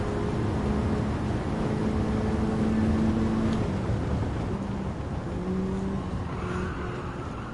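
A racing car in Gran Turismo 7 drives its final lap in a slipstream overtake, its engine a steady, loud drone with shifting tones throughout, heard alone with no talk.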